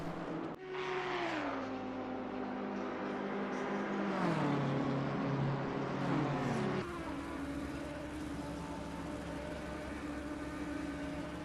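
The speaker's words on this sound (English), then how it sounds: "that sounded like a bit of rev bouncing there out of Ben Mullard's Audi R8" An Audi R8 GT3 race car engine in a racing video game at Imola, with a loud continuous engine note that rises, falls and bounces off the rev limiter before settling into a steady drone.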